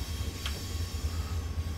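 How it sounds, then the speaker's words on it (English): A steady low rumble of an Amtrak Surfliner passenger train in the Train Simulator 2018 game, continuous and fairly quiet, with no talking. "this is an Amtrak train, so there's no cab car on the back"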